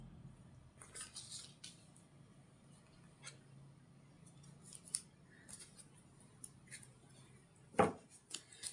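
Tarot cards handled and shuffled indoors, soft sparse papery flicks and light taps with a sharper snap near the end, quiet and close with no talking.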